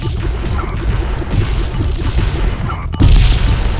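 Shots hit enemies in a modded hard-mode Space Invaders on PS1, setting off loud, dense booming blasts and crashes that build into a heavier burst near the end.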